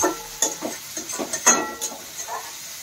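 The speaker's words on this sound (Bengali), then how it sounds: "আপাতত মশলা আমাদের পুরো কষানো হয়ে আসছে, একটু ভালো মতন কষিয়ে নেব।" Masala for a pomfret and pumpkin curry being stirred and sautéed in a pan: irregular spatula scrapes and clatters over a low, steady sizzle, close by with no talking.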